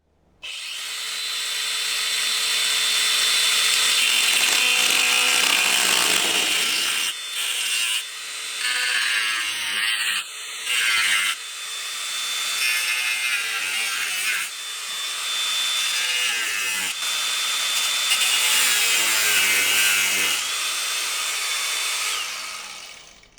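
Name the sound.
cutting disc cutting out rusted car underbody metal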